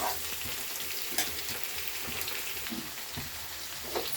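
Potato pieces and onions fry in hot oil as they are stirred for an egg and potato curry. The sizzle is constant and close, with soft scraping knocks from the stirring.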